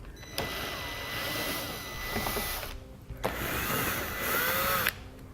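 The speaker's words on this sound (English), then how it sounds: "We're going to be using a 7mm socket to take them out" A power tool with a 7mm socket whirs in two long bursts while removing bumper fascia screws from a 2018 Chevrolet Equinox, close and loud with a short pause between runs, no talking.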